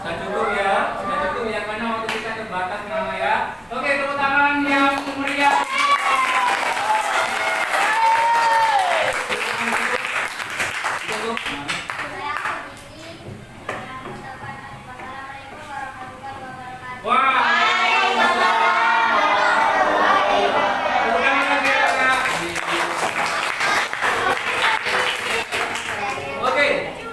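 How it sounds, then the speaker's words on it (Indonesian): Classroom audience claps during a teaching practice session, bursts of applause mixed with children's voices and an adult speaking, a loud stretch early and another late. "tepuk tangan yang meriah"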